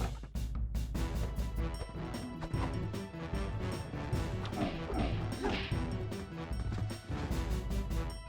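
A dog in the video game Kya: Dark Lineage barks and yips repeatedly over a dense, busy game soundtrack and effects, loud and continuous.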